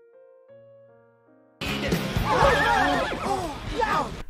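A horse neighs loudly in a long, quavering whinny in a scene from Jumanji: The Next Level, after a brief stretch of soft tonal music.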